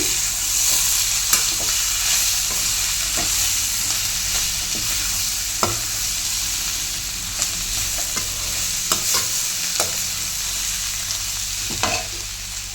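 Puri curry frying in a pan is stirred with a utensil, making a continuous loud sizzle punctuated by irregular scraping knocks against the pan.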